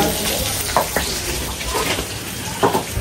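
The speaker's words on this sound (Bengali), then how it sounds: "এই যে এখানে হচ্ছে ইলিশ মাছ ভাজা হইতেছে" Hilsa fish frying in hot oil during an outdoor village cook-up makes a steady, close sizzle, with a few sharper bursts of spattering and stirring.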